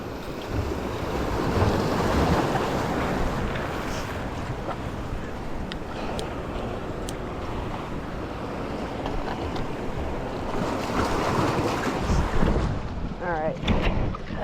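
Ocean surf surges and breaks against the rocks at a saltwater fishing spot in New Smyrna, a broad continuous roar swelling loudly under heavy wind buffeting the microphone.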